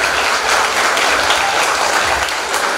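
Loud, sustained applause from a large audience at a school centenary celebration fills the space evenly with dense clapping throughout.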